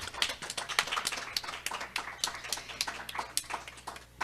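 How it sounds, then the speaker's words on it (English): Applause from a small congregation gathered over Zoom after a church service: scattered individual claps, sparse and uneven, fairly close and moderately loud. "let's give him a round of applause"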